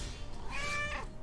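A cat gives a single rising-and-falling meow, clear and fairly close, over a quiet background with no talking.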